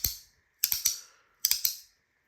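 Clicky, snappy fidget toy giving three quick bursts of sharp close-up clicks, each a tight cluster of two or three snaps, separated by short silences.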